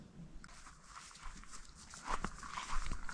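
A dog moves about quietly on a morning walk along a steep river bank, making faint, soft sounds against low outdoor background noise.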